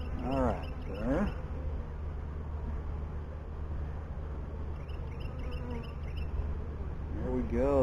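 A steady, dense hum of many bees buzzing together as a nucleus colony is moved into a hive, with a couple of brief voices speaking over it near the start and end.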